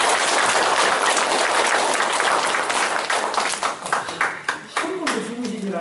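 An indoor audience claps loudly and steadily after a lecture by a university professor on Gyeongbuk identity and the independence movement at the Wangsan Heo Wi memorial hall. The applause thins into scattered claps near the end.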